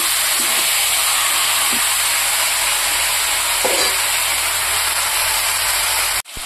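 Marinated meat sizzles and fries in a hot pan, a steady loud hiss throughout with faint scraping as it is stirred, ending in a sudden clatter near the close.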